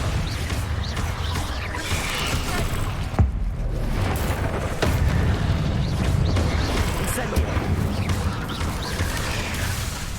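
Bombarda explosion spells blasting in the PS5 game Hogwarts Legacy, dull booms and crashes recurring through a dense, continuous wash of combat noise with no clear standout blast.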